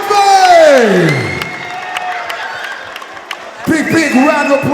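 After a split decision at an amateur MMA fight, the arena crowd cheers and claps loudly. A falling whoop sweeps down through the noise before a fresh burst of shouting swells again near the end.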